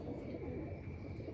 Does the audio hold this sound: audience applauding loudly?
no